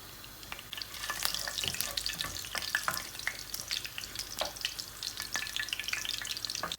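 Whole spices, cloves, cinnamon, cardamom and bay leaf, crackle and sizzle in hot oil in a Bengali kitchen, close and lively with irregular sharp pops over a steady frying hiss.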